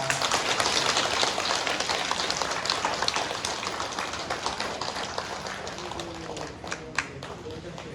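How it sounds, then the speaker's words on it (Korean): Sustained applause from a church congregation welcoming a priest at a 50th-anniversary Mass at Dogo Catholic Church, a dense even crackle of clapping that fades slightly toward the end. "환영의 박수 부탁드립니다."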